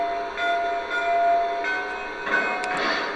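On a Lionel Legacy Union Pacific 4-12-2 #9000 model steam engine, the second of five bell sounds clangs out in evenly spaced ringing strokes above a faint steady drone, up close and with no voices.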